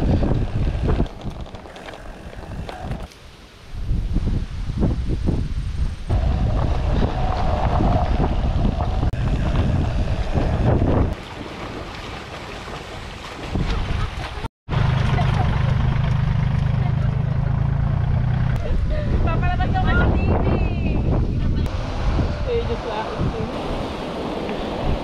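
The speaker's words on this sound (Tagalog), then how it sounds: "Grabe ang hangin." Strong wind rushing past during a bikepacking ride in the Caraballo Mountains, a steady loud roar buffeting the microphone for most of the stretch with a brief dropout midway, and voices speaking over it.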